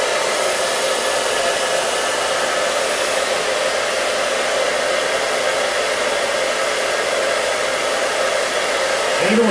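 A hair dryer fitted with a diffuser blows steadily on curly hair, a loud, continuous close-up whoosh that runs unbroken the whole time with no voices.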